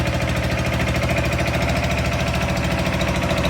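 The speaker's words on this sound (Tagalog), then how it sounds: "Okay na po ang engine. Maandar na." A repaired engine runs steadily at a workplace, a loud, close, even mechanical chug with a fast, regular pulse and a constant hum, heard alone for a few seconds.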